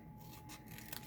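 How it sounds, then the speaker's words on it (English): Scissors snipping through paper or cardstock while a paper-craft treat box is cut out, a couple of faint, quick cuts in a quiet room. "we're going to cut that all the way"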